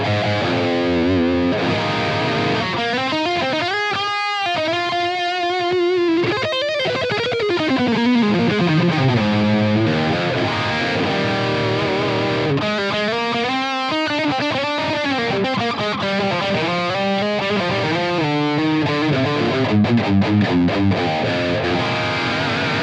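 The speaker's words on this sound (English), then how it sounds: "Take us out with some guitar riffs, Greg." Heavily distorted electric guitar with a super destroyer tone plays riffs and descending licks for over twenty seconds, loud, dense and continuous, with bending melodic lines and no talk over it.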